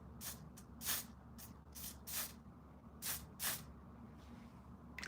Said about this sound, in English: I'm just spraying this, and I'm gonna spray the one from L'Oreal